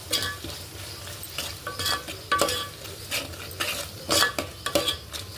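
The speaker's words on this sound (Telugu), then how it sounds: "కారం వేసుకుందాం ఒకటిన్నర టేబుల్ స్పూన్ వేసాను కారము పచ్చిమిర్చి వేస్తున్నాను కదా అందుకని ఇదంతా బాగా ఫ్రై చేస్తాను" Chili powder and green chilies fried in oil for sambar, with a steady sizzle under repeated sharp scrapes and stirring strokes of a spoon against the pan, close and irregular.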